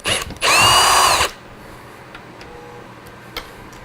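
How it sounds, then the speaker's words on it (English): A power drill fitted with a socket whirs loudly for under a second while removing bolts from an electric skateboard, then stops, leaving faint ticking and clicking in a quiet room. "I'm using a socket that's connected to a drill just for ease of use."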